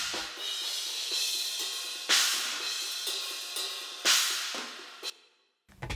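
A bright, trashy China cymbal struck repeatedly, close-miked in a metal drum mix, each crash washing out in a sizzling decay before the next hit, ending with a sharp choke.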